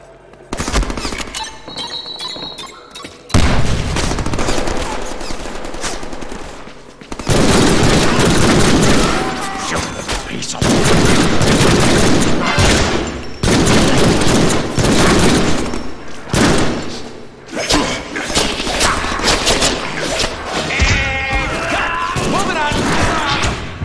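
Loud gunfire in the Deadpool video game, heavy bursts of shots and booming impacts packed densely together for long stretches, with game voices in between.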